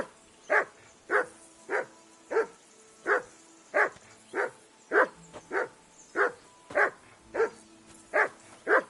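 A dog in the medieval video game Kingdom Come Deliverance barks steadily and insistently, about fifteen evenly spaced loud barks at close range with no voices.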